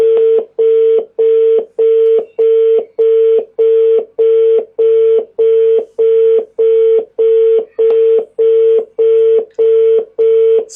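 A telephone placing a call gives a loud, steady train of identical short tone beeps repeating evenly about twice a second, with no talk.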